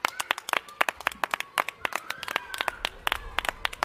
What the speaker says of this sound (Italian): Bravo, Reni, bravo, applausi per te.